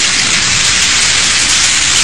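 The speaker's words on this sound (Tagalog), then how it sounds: "Umuulan!" Heavy rain pours down in a loud, dense, steady hiss with no pauses or voices.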